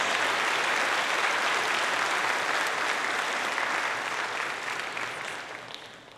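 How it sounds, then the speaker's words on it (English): Steady, dense applause from an audience honoring kindergarten through second grade contest winners at a patriotic youth event, loud and sustained throughout before tapering slightly at the end. "give another round of applause for our kindergarten through second grade winners"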